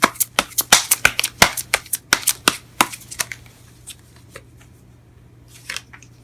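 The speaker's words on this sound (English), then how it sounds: "Let me just pull one more card for that" Tarot cards are shuffled with a fast series of sharp, crisp riffling snaps, loud and close for about three seconds, then a few softer card flicks and taps follow after a quiet pause.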